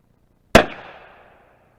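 A single sharp crack from a .22 Long Rifle shot into homemade ballistic gel, loud and outdoors, trailing off in a short echo.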